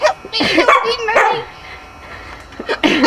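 A dog wearing a t-shirt barks and yips several times nearby in a home, with short whimpering sounds between the barks, loud and close.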